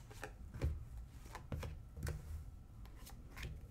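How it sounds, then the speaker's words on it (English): Tarot cards being cut and shuffled, a series of soft, quiet riffles and flicks that come in irregular bursts, close up and with no talking. "Let's go ahead and cut the cards."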